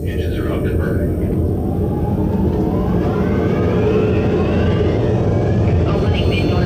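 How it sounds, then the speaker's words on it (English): Engines spin up and burn in a sound-effect demo, a loud, continuous low roar with a rising whine, heard under a voice. "Engines are up and burning."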